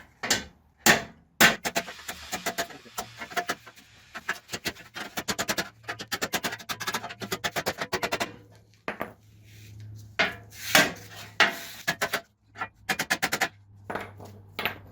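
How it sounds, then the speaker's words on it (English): Heavy hammer blows ring out in irregular bursts against a deer-damaged, bent front bumper retainer from a 2008–2015 Nissan Armada, loud sharp metallic impacts with short pauses and some quieter handling noise between strikes. "You'll see the big hammer."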